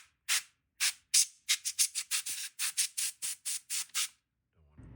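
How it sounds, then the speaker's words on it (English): Compressed air dusts off the circuit board of an AKAI MPC 60 during restoration, a run of about fifteen short, sharp hissing bursts in a quick irregular rhythm, close and loud, followed by a faint low rumble. "When in doubt, compressed air."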